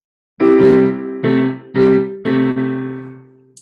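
Four piano chords struck one after another, each ringing briefly before the next, the last one sustaining and fading out.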